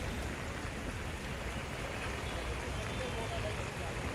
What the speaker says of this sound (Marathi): वडाळा परिसरामध्ये देखील अतिमुसळधार पाऊस सुरू झालेला आहे